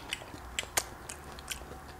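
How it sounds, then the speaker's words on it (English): Crunchy, slightly burnt potato cakes being chewed up close at a brunch meal, a few soft crisp bites and crunches spaced irregularly over quiet background, with no talk. "I like my potato cakes a little on the burnt side. Because the crunch and the flavor"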